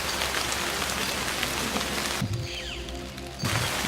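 Rain pours steadily in the VR nature game Nature Treks VR, a loud, even wash of falling drops that briefly thins midway before returning in full.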